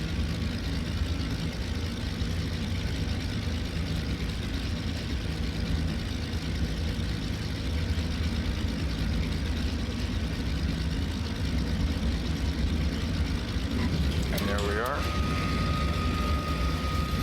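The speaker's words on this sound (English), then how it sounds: "Touched down a little farther than I wanted, but just about safe enough." A plane landing at St Barth in Flight Simulator X, with a steady loud engine drone that holds throughout and a brief changing tone near the end.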